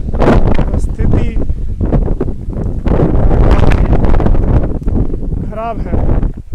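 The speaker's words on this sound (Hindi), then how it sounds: "किस तरीके से तेज हवाएं और शहरों में धूल भरी आंधियाँ, सड़कों पे आवाजाही भी प्रभावित हुई है" Strong storm winds of a severe dust storm in Una roar and buffet the microphone without a break. The gusts are loud and close, with a voice heard faintly beneath them.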